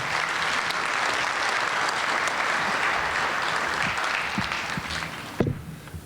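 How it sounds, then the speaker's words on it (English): Conference audience applauding the panelists at a general session, a sustained room-filling round of clapping that stays steady, then thins and stops with a few last claps and a thump at the end. "Could I have a round of applause for our panelists"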